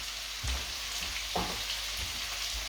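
A restaurant-style lamb curry base sweats down in a pan with a steady, close sizzle, broken by a couple of soft knocks and scrapes from occasional stirring.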